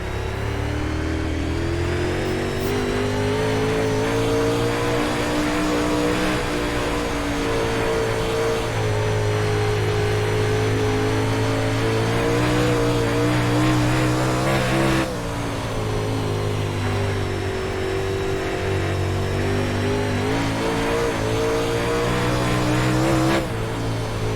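A dirt UMP modified race car in the iRacing sim game drones steadily around a lap, its engine note rising and falling through throttle changes, loud and continuous with no voices.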